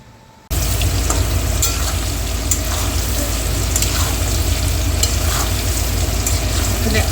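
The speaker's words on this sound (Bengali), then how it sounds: "আলু আছে পেঁপে আছে গাজর আছে এগুলো একটু ভাজা করে নেব" Potato, papaya and carrot frying in a pan make a loud, steady, close sizzle that starts abruptly and carries on unbroken, with faint stirring clicks and no talk.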